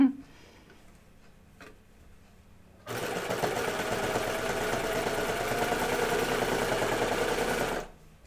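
A sewing machine stitches stretched fabric for a pants pattern in one steady, continuous run of about five seconds after a quiet pause, close and fairly loud, then stops abruptly.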